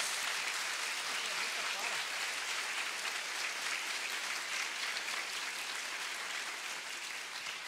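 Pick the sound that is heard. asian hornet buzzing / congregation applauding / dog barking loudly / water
congregation applauding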